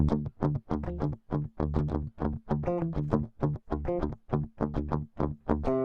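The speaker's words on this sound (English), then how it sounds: "let's listen to the clean, first of all." An electric guitar plays a clean tone through an STL Tones amp modeler, picking out a steady run of plucked chords and notes, loud and up close, with no talking.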